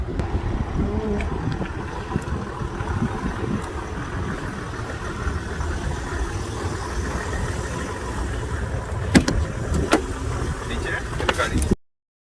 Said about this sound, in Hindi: और गाड़ी निकाल रहा है बेटा क्योंकि थोड़ी स्पेस कम है।